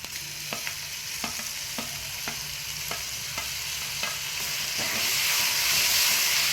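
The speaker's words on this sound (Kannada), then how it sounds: "ನೋಡಿ, ಈಗ ಟೊಮೊಟೊ ಹಾಕ್ತಾ ಇದ್ದೀನಿ." Tomatoes added to a hot pan for chapparadvare kayi (flat bean) palya sizzle steadily while a spatula scrapes and taps in a regular rhythm. The frying hiss swells louder toward the end.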